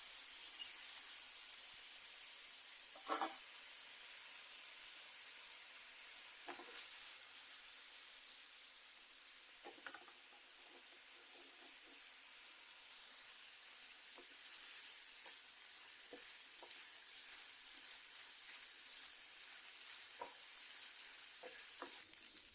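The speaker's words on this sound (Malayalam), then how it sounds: "നമ്മുടെ കൂന്തലിട്ട് കൊടുത്ത് ചെറുതായിട്ടൊന്ന് ഫ്രൈ ചെയ്തെടുക്കാം" Squid seasoned with salt and chili powder fries in a hot pan, giving a steady, close hiss of sizzling oil with small pops and occasional stirring, and no voices.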